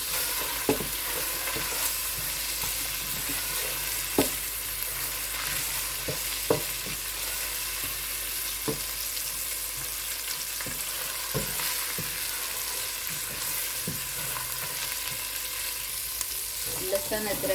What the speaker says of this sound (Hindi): लहसुन अदरक जो है वो हल्का हल्का सौते हो रहा है